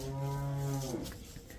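A cow on a farm near Amritsar, Punjab gives one long, close, drawn-out moo that falls away into quiet outdoor background.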